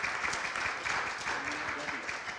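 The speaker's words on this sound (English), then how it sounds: "So I want to just ask everybody to get a round of applause." A church congregation at its annual meeting claps together with a soft, steady patter that stays fairly distant and even throughout.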